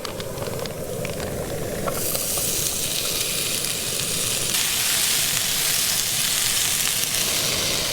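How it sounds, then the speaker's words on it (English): Vegetables hit a hot Jetboil 8-inch Summit ceramic skillet on a backcountry camp stove, bursting into loud continuous sizzling and hissing over the stove's steady roar. "We're gonna throw the veggies in here."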